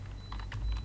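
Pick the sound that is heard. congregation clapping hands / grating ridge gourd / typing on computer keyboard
typing on computer keyboard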